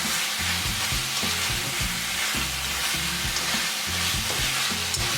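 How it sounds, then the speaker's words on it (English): Thai-style duck stir-fry with Thai basil leaves sizzles steadily in a pan while being stirred, the spatula scraping in a regular rhythm under a constant loud frying hiss, with no voices. "I'm just going to basically mix everything so all the ingredients can marry now"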